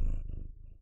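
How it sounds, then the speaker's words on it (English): A cat purrs close up in a low, rumbling vibration, brief and soft. "Can you guys hear her purring?"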